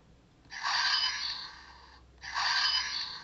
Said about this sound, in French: voilà, c'est le bruit de l'épée là.